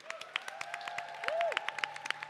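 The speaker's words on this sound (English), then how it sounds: "How about a big round of applause for Leonie" Scattered clapping from the audience at the close of a songwriters' circle night, with sparse separate claps over a steady sustained tone, moderately quiet and brief.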